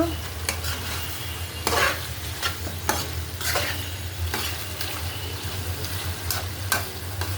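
Tomatoes and potatoes frying in a pan, a steady close sizzle over a low hum, punctuated at regular intervals by scraping strokes of a spoon stirring, with no one speaking.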